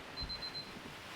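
A timer alarm in the survival video game Sons of the Forest beeps in a quick series of four faint, high electronic pulses over a steady hiss of game ambience.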